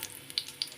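Mustard seeds sputtering in hot oil in a pan, a soft continuous sizzle with a couple of sharp popping crackles, close and alone.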